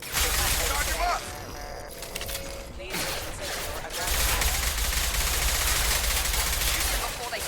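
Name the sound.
gunfire in the video game Mass Effect 2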